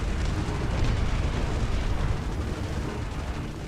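A heavy bomb detonating in a Men of War-style war strategy game, a dense, sustained rumbling roar with deep low-end weight that holds steady throughout without letting up.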